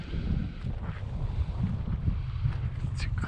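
Gusty wind buffets the microphone beside a trout creek, a steady low rumble with fluctuating surges and no talk.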